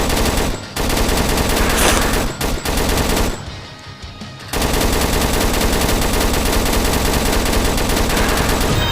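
Rapid automatic gunfire from shooting zombies in Roblox Zombie Arena, loud sustained bursts with a short pause midway before the firing resumes.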